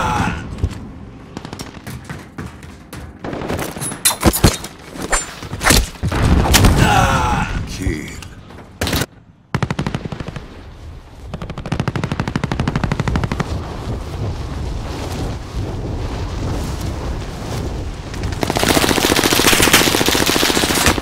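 Rapid automatic gunfire and single shots from the Call of Duty Warzone video game, loud bursts in the first half, a brief gap, then sustained dense firing and mechanical clatter with some game voice lines over it.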